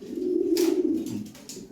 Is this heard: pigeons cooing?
yes